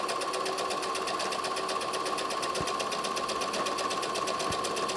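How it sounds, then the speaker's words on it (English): A sewing machine runs steadily and continuously at close range, stitching a seam down to the bottom of a pocket, with a constant fast mechanical whir and a couple of faint thumps. "sew all the way down to the bottom of the pocket."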